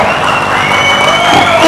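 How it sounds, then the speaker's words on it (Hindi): A festival crowd at a film trailer launch for Haseena Parkar whistles and cheers loudly, a sustained, dense wash of shouts and shrill whistles with no pauses. "एक बार फिर से जोरदार सीटियां सुनाई देनी चाहिए यहाँ पर"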